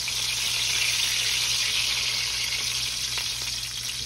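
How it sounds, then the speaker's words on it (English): Fried hand pies sizzling in hot grease, a dense, steady crackling hiss of bubbling oil heard close and continuous, with no voices over it. "we're gonna move over here to the hot grease. We're gonna fry them off."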